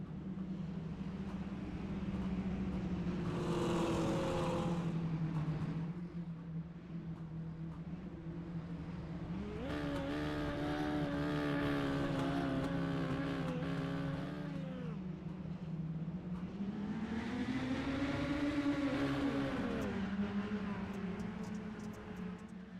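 Mini stock race car engines in iRacing, droning steadily with rising and falling revs as cars pass, one whining pitch swelling and receding in waves over a constant low hum, no voices.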